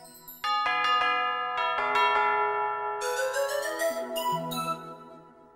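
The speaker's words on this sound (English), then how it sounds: "A pink bell." A cartoon bell in a children's colors lesson rings a quick run of bright chiming strikes, then longer ringing tones that overlap and fade, loud and clear with no voices.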